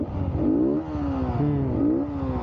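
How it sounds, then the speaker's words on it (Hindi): Yamaha MT-15 V2 motorcycle fitted with a K&N air filter, its engine revving up and down in rising and falling sweeps, close and fairly loud with no talk over it. "साउंड चेक करो, रेव देना"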